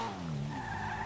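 A car in a video game skids with a sustained, loud tire squeal over engine drone, one continuous slide lasting about a second.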